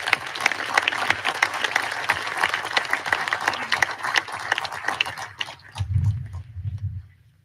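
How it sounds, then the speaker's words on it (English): An audience at a faculty award ceremony gives a round of applause with lively, dense clapping that thins out and stops after several seconds, leaving a few low thuds and rustles. "please join me in a round of applause for our faculty award recipients"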